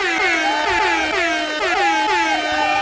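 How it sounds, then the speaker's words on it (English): Loud air horn sound effect played over a livestream, a series of blaring, pitch-bending honks repeating in quick succession, close and dominant with no talk over it. "An air horn."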